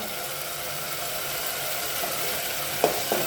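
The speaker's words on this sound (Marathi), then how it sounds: "सगळे मसाले भाजून घ्या" Spices roasting in hot oil in a pan for a spicy Maharashtrian dal curry, a constant soft sizzling hiss with two brief spoon taps near the end; no voices.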